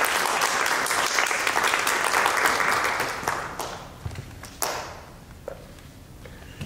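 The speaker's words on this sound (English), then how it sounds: "Applause for Valentina" An audience at a spring piano recital applauds pianist Valentina Perez, moderately loud and steady for about three seconds, then dwindling into a few scattered claps and thuds.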